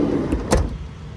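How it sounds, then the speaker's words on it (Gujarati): A single short mechanical click and clunk of a car door opening, close by, over a low engine rumble. "તમે અમારા માટે દરવાજો ખોલ્યો."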